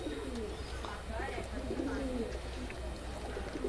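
A pair of old green-eyed Madrasi pigeons, a male and a female, coo close by in low, rolling, repeated phrases over a constant background hiss.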